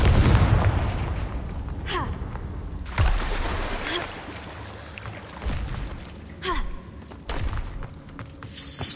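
Confringo fire spell blasts in Hogwarts Legacy gameplay, several sharp booming impacts with thuds and crackling bursts spaced a few seconds apart, loud and close over a low ambient bed.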